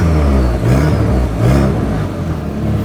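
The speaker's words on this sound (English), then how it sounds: "I'll give it another rev anyway." Audi TT engine with a new exhaust and a faulty downpipe, revved at standstill in a few rising and falling surges, loud and close, with no voices over it.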